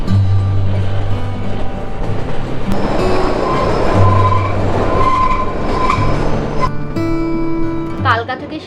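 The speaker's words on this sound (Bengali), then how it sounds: "টানেলগুলোর মধ্যে দিয়ে যখন ট্রেনটা পাস করছে" The Kalka–Shimla toy train rumbles through a tunnel, a loud, steady rolling roar with droning tonal hums and clatter, and voices faintly mixed in.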